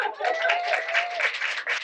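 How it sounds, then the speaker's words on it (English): A brief burst of audience applause for Colchester Pride at an LGBT+ History Month meeting, steady clapping from a small crowd lasting under two seconds, with a voice calling out over it. "Round of applause for Colchester Pride."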